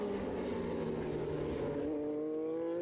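Moto3 racing motorcycles at full throttle on the Silverstone circuit during a race, their high-pitched engines wailing together in a steady, loud, continuous drone, with no one talking.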